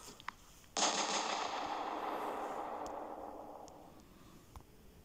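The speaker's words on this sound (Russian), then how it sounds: "Салют." A fireworks salute set off at an Old New Year celebration bursts with a sudden loud crackling blast, then a long dense fizzing crackle that slowly fades over several seconds, with a few faint pops scattered before and after.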